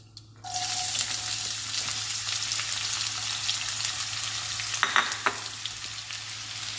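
Onion pieces sizzle steadily in hot oil already seasoned with dried red chillies and tempering seeds, a loud continuous frying hiss with a few brief clatters of stirring.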